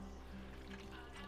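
Milk pours steadily into a bowl or pan while Southern-style food is cooked in an RV kitchen, a short, close, continuous liquid trickle with no talking.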